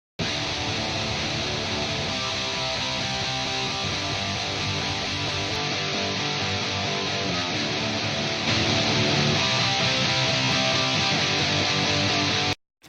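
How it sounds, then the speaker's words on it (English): Heavy distorted guitar tracks through PV and Mesa Boogie amps form a dense, loud, continuous wall of sound, growing slightly fuller partway through as processing is switched on, then stopping abruptly. "if I turn off all of my processing on the guitar tracks, and you hear just how they sound like this."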